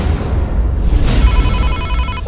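An electronic phone ring in the Sakura School Simulator video game chirps over a steady background hum, a repeating trilling tone that is loud and close with no speech.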